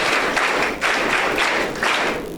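An audience claps hands together at a school annual prayer breakfast, steady dense applause rising and falling in a few waves, close and loud with no talking over it.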